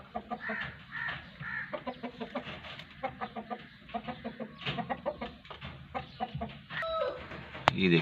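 A hen wandering nearby clucks in a steady run of short, rhythmic clucks, fairly close and loud, with a sharp high squawk near the end.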